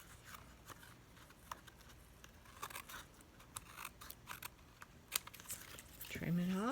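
Scissors trim a glued paper card in a series of quiet, close snips and crinkles. A short rising squeak sounds near the end.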